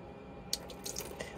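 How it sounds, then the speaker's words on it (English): Water drains from a push-up drop-down sink in an Auto-Trail V-line 636 Sport motorhome, with a few brief splashy gurgles and drips over a low steady hiss, close by. "you've got to push it up and it drains into here"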